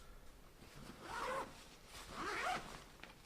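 A zipper on an Osprey Farpoint 40 travel backpack is pulled open in two quiet, raspy strokes, each lasting about half a second, close up in a calm room.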